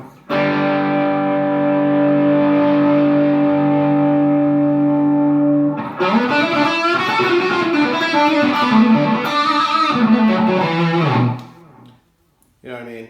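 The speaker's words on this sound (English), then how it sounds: "that's how I set my overdrive or distortion pedal up" Electric guitar played through an overdrive or distortion pedal: a long sustained distorted chord rings loud, then a run of gritty single notes and bends before fading out.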